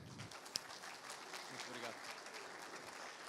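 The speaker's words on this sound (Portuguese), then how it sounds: "Por favor, deem uma salva de palmas a ele." Audience applause at a talk on soybean inoculation, a steady, moderately faint patter of clapping from a seated crowd, with a voice heard faintly beneath it.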